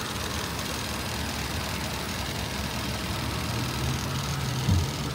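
The 3.7-liter six-cylinder engine of a 2016 Ford Transit 350 XLT van running at idle, a steady low mechanical hum with a brief bump near the end, close and without talking.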